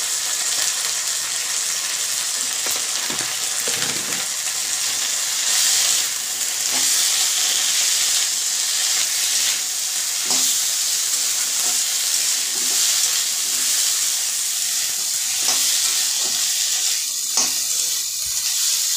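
Spices with a little salt and turmeric fry in a pan for a paneer dish, a loud continuous sizzle close up, broken by scattered clicks and scrapes of stirring and no talk.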